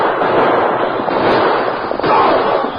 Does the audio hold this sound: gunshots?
yes